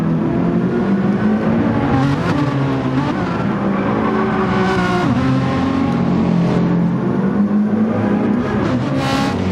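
Several race car engines drone and whine together throughout a multi-class Gran Turismo 7 race with McLaren and Ferrari cars, a steady loud mix of revving pitches shifting up and down with occasional tire squeal.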